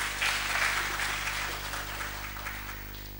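Applause for volunteers at the Indian Sociological Society diamond jubilee conference valedictory session, a soft, fairly distant round of clapping over a steady low hum, fading slightly as it goes.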